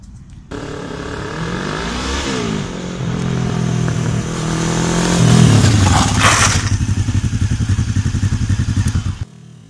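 Motorcycle engine accelerating up to 50 km/h during a riding coaching session: a loud, steady engine note that climbs in pitch and holds, with a rising rush of wind before the throttle drops and the bike settles into a rough idle.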